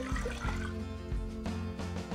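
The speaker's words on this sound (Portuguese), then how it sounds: "a água," Water is poured into a glass in a kitchen, making a continuous splashing trickle close by with a few brief gurgles, no talking.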